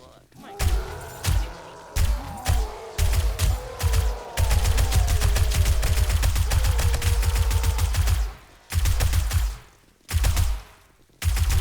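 Rapid gunfire from shooting zombies in the video game 7 Days to Die, Alpha 19, at a horde base: loud bursts of shots, then a long unbroken automatic stream, then a few short separate volleys.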